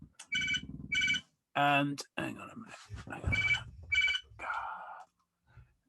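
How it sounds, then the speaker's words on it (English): A mobile phone rings with two bursts of a bright, repeating electronic ringtone, close and fairly loud, between stretches of someone talking outdoors. "oh, my bloody phone's ringing."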